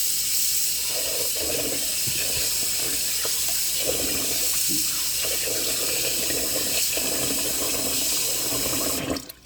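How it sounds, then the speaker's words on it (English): Rice gets rinsed by hand under a running kitchen tap to wash away starch; a steady close rush of water fills the sink, with grains swishing beneath it, before the flow cuts off at the end. "Add some more water, and you do that and repeat the motion as many times as possible to get rid of all of the starch."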